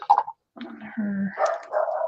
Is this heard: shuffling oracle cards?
no